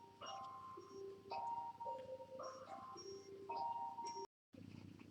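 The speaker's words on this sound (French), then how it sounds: "Excusez-moi, mon téléphone sonnait." A mobile phone ringtone plays a repeating melodic tune of sustained tones, fairly loud and close in an indoor shop setting, cutting off abruptly near the end.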